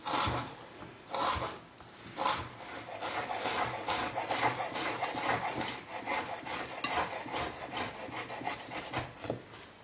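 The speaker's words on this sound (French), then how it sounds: "on vient découper des tout petits cubes comme ceci" A knife dices ginger into tiny cubes with quick, rhythmic cuts, a run of short, dry taps and scrapes repeating close up, with no talking.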